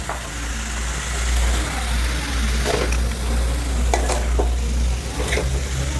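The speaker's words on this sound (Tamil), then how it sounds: "நல்லா மிக்ஸ் பண்ணிக்கலாம். பன்னீர் உடையாமல் பார்த்துக்கோங்க." Paneer cubes tossed with chilli powder, salt, garam masala and chaat masala in a pan make a continuous loud sizzle with soft stirring scrapes, under a low steady rumble, no talking.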